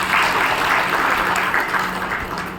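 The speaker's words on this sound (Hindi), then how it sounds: "तालियां बजाइए।" An audience applauds at a talk on meditation, a dense, steady wash of clapping from a crowd with no break, heard alone.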